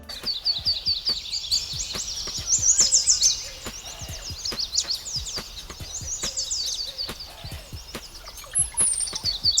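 Early-morning birds chirp in rapid, high twittering bursts that repeat throughout, with dense overlapping calls and a few sharp clicks nearby.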